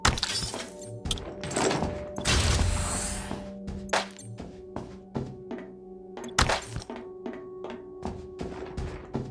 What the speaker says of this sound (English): Setting off a fucking explosion?